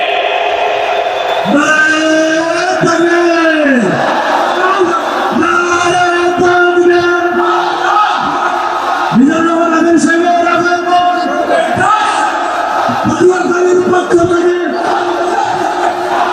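A large crowd at a Bangladeshi religious gathering in Patuakhali repeatedly chants Allahu Akbar in answer to a takbir call, the loud massed voices rising in regular waves throughout.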